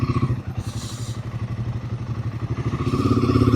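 A motorcycle pulling away at the start of a road ride from Rohini toward Murthal, its engine thumping in a steady, close pulse that builds slightly as it gets going.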